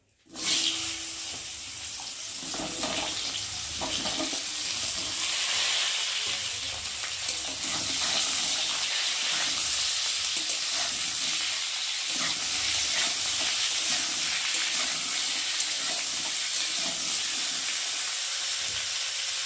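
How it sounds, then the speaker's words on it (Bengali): Pointed gourd and ridge gourd pieces dropped into hot oil, a loud sudden burst of sizzling that settles into a steady, dense close hiss of frying with faint stirring underneath, no talking. "আর এখন আমি সবজিগুলো তেলের মধ্যে দিয়ে একটু ভালো করে ভেজে নেব।"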